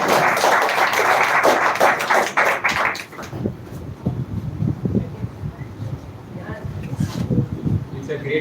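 An audience of students applauds a speaker at a school event, a loud dense burst of clapping for about three seconds that fades into scattered claps under murmuring voices and room noise.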